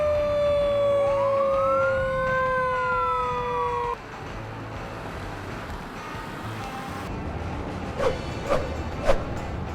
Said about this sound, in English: They put on their engines, lights, and sirens so that people can hear and see them coming.